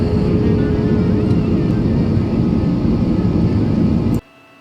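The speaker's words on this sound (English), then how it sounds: "the aircraft banking to the left, and we are almost approaching Pune after an hour's flight" Steady loud cabin drone of an IndiGo airliner in flight, descending and banking toward Pune, a dense low engine roar that cuts off abruptly near the end.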